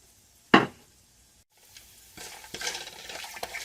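Whole spices (black cardamom, black pepper, cinnamon, star anise, cloves and cumin) hit a hot pan for green chicken biryani: one sharp clatter, a quiet pause, then a low, steady sizzle with soft stirring scrapes, close by and with no talking.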